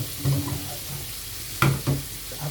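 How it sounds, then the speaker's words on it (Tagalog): Chopped tomatoes sizzle in a hot pan with a soft, steady frying hiss, broken by a couple of sharp scraping clatters of a utensil stirring them. "Gisang-gisa ng ating kamatis"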